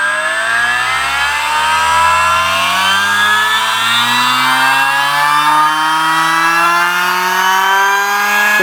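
A miniPRO dyno rolling road running flat out at maximum revs gives a loud, steady, high-pitched motor whine that climbs slowly in pitch and holds without a break.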